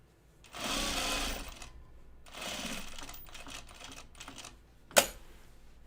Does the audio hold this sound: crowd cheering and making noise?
no